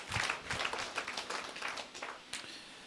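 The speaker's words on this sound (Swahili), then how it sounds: "Pigie Yesu makofi mengi mengi" Congregation at a Swahili church sermon applauding together, a steady burst of many hands clapping throughout, moderately loud and close, with no talk over it.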